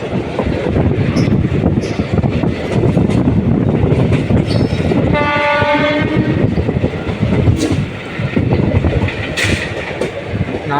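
A train arriving at Srirangam station rumbles loudly close by with clattering wheels and a brief horn blast midway, continuing steadily throughout.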